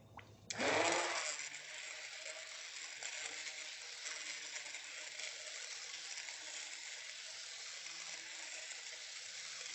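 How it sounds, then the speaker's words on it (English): Kitchen blender running continuously, pureeing a cream soup, a steady whirring motor with broadband churning that starts abruptly and holds at even loudness, no voices. "Puree the soup."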